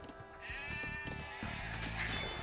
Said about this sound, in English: You've found some sheep.